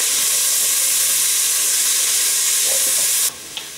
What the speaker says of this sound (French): on va faire revenir les lardons jusqu'à ce qu'ils soient bien dorés